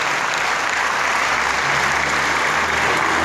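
A church congregation breaks into sustained applause, dense and even clapping from many hands filling the room at close range for several seconds.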